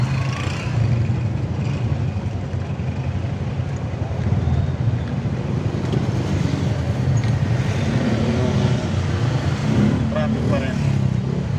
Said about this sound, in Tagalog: Traffic pa rin.